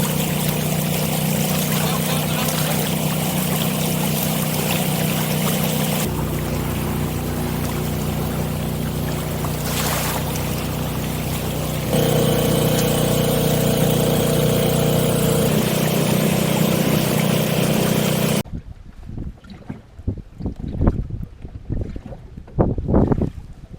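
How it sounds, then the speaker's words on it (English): The engine of a small Fantasie 19 sailboat runs steadily while motoring with the mainsail up, a constant drone with wind buffeting on the microphone, giving way near the end to quieter, uneven water and wind sounds. "We've had to put the engine on."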